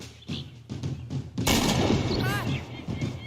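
A single warning gunshot in a video game cutscene: a sharp loud crack after some tense low talk and thuds, trailing into a long rumbling echo with brief whistling tones.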